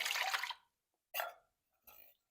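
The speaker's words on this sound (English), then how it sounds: "And I'm going to put the beef broth." Beef broth is poured onto ground meat in a single pot: one short splashing pour followed by two briefer, quieter splashes, separated by near silence.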